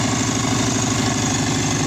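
Subaru Forester SG9 with an EJ255 turbo engine idling, a steady loud, even low throb with a regular pulsing beat, heard up close and alone with no talking.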